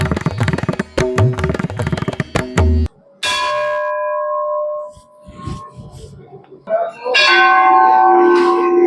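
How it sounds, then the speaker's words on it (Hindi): Temple bells at a Kumaon temple in Uttarakhand clang and ring out in a rapid, overlapping cluster, then single strikes hum and decay, followed by another loud burst of ringing. "यहाँ लगी एक एक घंटी एक एक कहानी है,"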